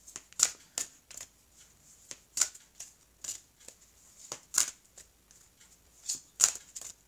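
Oracle cards are shuffled by hand in quiet bursts of soft papery riffling, about a dozen short rustles spaced irregularly, close and faint, no speech.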